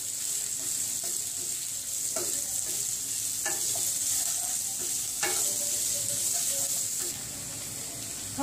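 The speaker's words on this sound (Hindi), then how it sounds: "अब प्याज को 2 से 3 मिनट के लिए भून लेंगे।" Onions sizzle steadily in a pan, broken by periodic clinks and scrapes of a spoon stirring them, close and continuous throughout.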